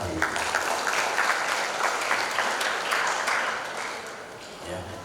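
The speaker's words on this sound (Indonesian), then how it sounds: "Mungkin kita bisa berikan tepuk tangan untuk yang seperti itu." An audience at a language ambassador pageant final in Bangka Belitung breaks into applause, a sustained wash of clapping with some voices mixed in, easing slightly toward the end.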